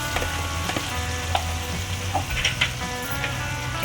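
Blended onion paste fried in oil and stirred while cooking for a Bengali koi fish curry, with a steady close sizzle and a few scraping stir strokes, no voices.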